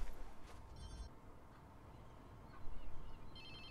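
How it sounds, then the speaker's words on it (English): A telephone rings in Watch Dogs 2, two short bursts of high electronic trilling separated by a quiet gap, faint over low background rumble. "Ring ring."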